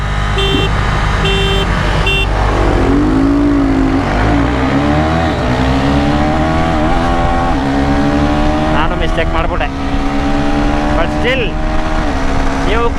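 A KTM 390 Adventure and a Royal Enfield Himalayan 450 drag race, engines revving hard with rising and falling pitch through gear changes, loud and close, with a person talking over them.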